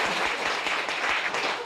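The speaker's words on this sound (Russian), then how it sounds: "Хлопайте вы, хлопайте вы" Studio audience applauding on a television cooking show, a dense, steady wash of clapping that holds at an even level for its short length with no voices over it.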